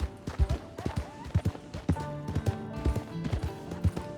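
Horse hooves clip-clopping at a gallop in the video game Red Dead Online, a steady rhythmic beat of close, fairly loud footfalls with some game ambience beneath.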